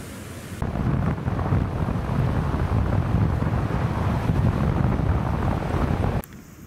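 Ocean surf where the Pacific meets the Tasman Sea on New Zealand's west coast, a loud, steady roar of crashing waves mixed with heavy wind buffeting the microphone, with no voices.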